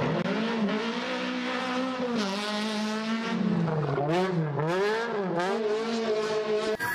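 A yellow toy rally race car runs with a continuous whining motor that rises and falls in pitch, loud and close, with a brief spoken exclamation over it.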